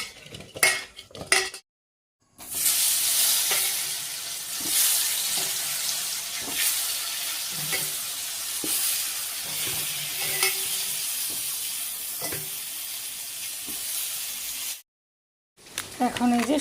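Pointed gourd coated with salt and turmeric hits hot oil and sizzles loudly and continuously, with spatula stirring and utensil clinks, close by, framed by brief pauses and a voice speaking at the edges.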